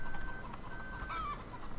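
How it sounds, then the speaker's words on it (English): Chickens cluck and a rooster calls faintly on a Farming Simulator 2013 farm, with short scattered clucks over a low steady background hum. "the chickens are kind of a bit annoying after a time"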